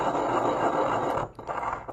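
Gritty grinding and scraping of a sugar cube crushed with a mortar and pestle, continuous and close, with a short pause near the end.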